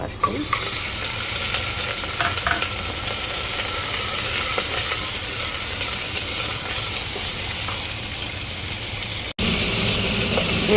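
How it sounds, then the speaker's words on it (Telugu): Mutton hits hot oil in a pan and fries with a loud, continuous sizzle and crackle, briefly cutting out near the end before resuming. "నేను ఫస్టే మటన్ వేసేస్తున్నానండి"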